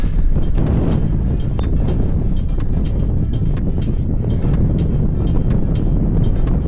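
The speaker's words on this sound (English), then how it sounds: "It's probably hard for you guys to see, but there's definitely some wind out there." Strong side-offshore wind buffets a microphone on a cold shore during a high-wind windsurfing session, making a loud continuous rumble broken by regular sharp gust thumps, with no talking.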